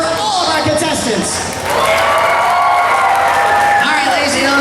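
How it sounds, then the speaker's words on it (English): Loud applause and cheering burst from a comic convention audience for costume contest contestants, with whoops and high shouts rising over constant clapping throughout. "one more round of applause for all of our contestants"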